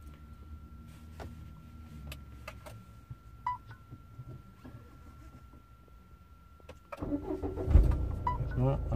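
A Renault Dacia's engine starts with a loud, rumbling catch about two-thirds through, after a quiet stretch inside the car with a few small clicks and beeps.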